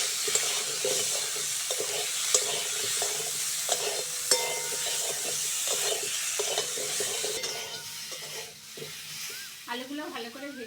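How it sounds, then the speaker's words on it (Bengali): Potato pieces fry in oil in a wok, a continuous close sizzle broken by repeated scraping stirs throughout. A short burst of voice comes near the end. "ওই কড়ার মধ্যে আলুটাও ভেজে নেব।"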